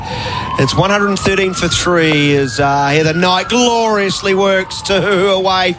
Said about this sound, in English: It's actually a double siren. You've got that's the fire engine turning left off Adelaide Road.